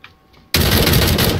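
A gun in a video game opens fire abruptly after a quiet moment, a loud dense continuous blast of rapid shots held to the end.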